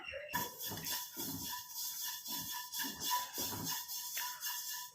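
Dry-roasting an ingredient for homemade hair dye in a pan: a steady, dry hiss broken by repeated low scraping strokes at a fairly regular rhythm, close and moderately loud, with no voices.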